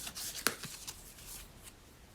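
Oracle and tarot cards are shuffled quietly up close, a soft papery riffle with one crisp snap of cards near the start, heard without speech.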